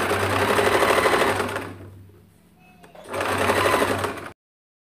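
A sewing machine runs close by, stitching a folded hem on a churidar pant in two steady whirring bursts separated by a short pause, with no talking.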